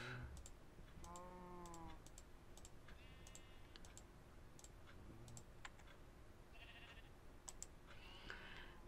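Sheep bleats from the video game Minecraft, several short wavering bleats scattered among rapid keyboard typing and mouse clicks.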